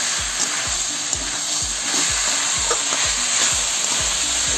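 Pui shak greens with pumpkin fry in a pan with green chili, a close, even sizzle broken by a regular rhythm of stirring scrapes, no voices.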